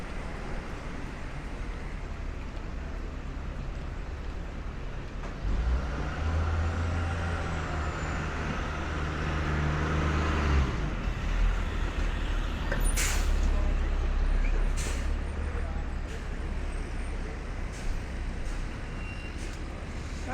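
On Elizabeth Street near Prince Street in New York City, a bus in a street traffic jam sounds a loud hiss from its air brakes, amid rumbling engines, hurried street noise and a few faint voices.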